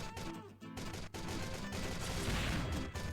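Rapid bursts of gunfire crackle loudly in the video game Strike Force Heroes 3, a dense fusillade from an explosive rifle with explosive bangs, continuous and close.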